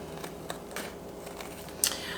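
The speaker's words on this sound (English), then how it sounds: "take a pair of scissors and you're just going to want to cut" Scissors cutting fabric along the edge of a fabric bowl: several soft snips at irregular intervals, with one sharper, louder snip near the end, close and quiet with no talking.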